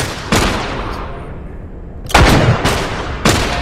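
Gunshots in The Last of Us during a bandit attack: four loud, booming shots with echoing decay, one early and three more clustered later, with a rumbling ambience between them.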